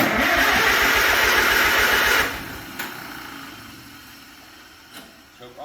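Farmall Super M tractor engine cranking with a rapid rhythmic churn for about two seconds, then cutting off, followed by a couple of faint pops and knocks; a voice speaks briefly.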